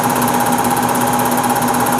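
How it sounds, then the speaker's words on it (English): A single-phase PM-950V milling machine with a 3 horsepower motor runs steadily, giving a continuous even mechanical hum and whine with no breaks, loud and close, with no talking. "it's running pretty smooth, Steve."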